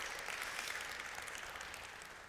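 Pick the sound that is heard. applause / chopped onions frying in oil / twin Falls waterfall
applause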